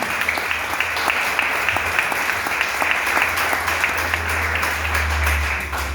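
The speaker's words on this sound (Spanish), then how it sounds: "Vamos a aplaudir al que vive" Dense congregational applause at a church service, many hands clapping steadily and loudly for the whole stretch over a low sustained musical hum, with a deep bass swell near the end.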